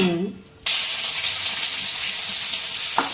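Chopped onion hits hot oil in a pan for ghugni, breaking into a loud, steady sizzle after a brief quiet start, with a small clink near the end.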